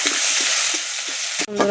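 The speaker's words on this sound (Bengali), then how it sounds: "পেঁয়াজ কুচিটা পেঁয়াজটা লাল লাল করে এখন ভাজা করে নেব" Chopped onion frying in a pan of hot oil, a loud dense sizzle close up that drops briefly near the end before a scrape of stirring.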